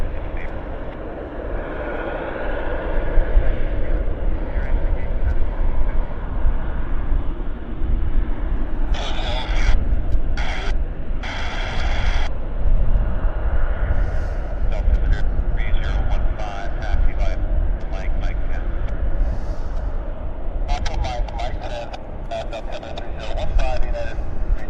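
Airliner departing Vancouver Airport bound for Narita, Japan, a loud continuous engine roar that holds steady throughout, with a person talking intermittently over it.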